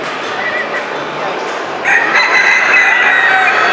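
A miniature rooster crows loudly nearby at a poultry show in Sahuayo, a drawn-out strained call rising in the second half over a background of other birds.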